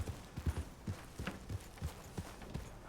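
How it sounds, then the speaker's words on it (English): Rhythmic horse hoofbeats in Red Dead Redemption 2 clip-clop steadily at a trotting pace through a graveyard, close and moderately loud, with no voices. "I'm just riding my horse through the graveyard."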